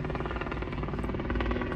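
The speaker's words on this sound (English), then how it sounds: "It's like back-to-back helicopters." Helicopters fly low overhead near an airport, a loud continuous rotor thrum with rhythmic blade chop filling the whole stretch, close and steady with no talking.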